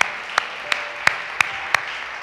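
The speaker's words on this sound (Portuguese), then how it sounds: "por que não das um aplauso a esse rei que temos maravilhoso?" Clapping for a king at a religious gathering comes as five sharp, evenly spaced claps in a slow steady rhythm over a quiet room hum, moderately close.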